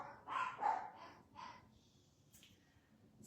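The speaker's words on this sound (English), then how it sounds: "sorry about my dogs. If you can hear them, I apologize." Household dogs bark indoors, a few short, fairly faint yaps early on and a couple of softer sounds after, heard from another room.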